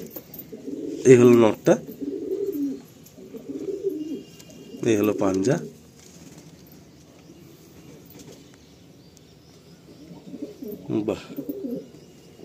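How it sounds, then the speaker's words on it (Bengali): Madrasi pigeons coo in a loft, with low throaty calls in a few separate bursts and brief wing movement, while someone talks nearby. "খুব সুন্দর পায়রা।"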